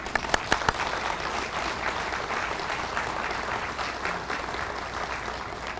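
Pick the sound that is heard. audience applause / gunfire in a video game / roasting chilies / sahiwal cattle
audience applause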